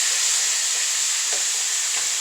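Steak sizzles in a hot pan, a loud continuous hiss and crackle with no talking, close and steady.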